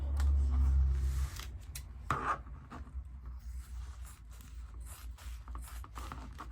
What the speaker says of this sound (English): we're going to cut those in half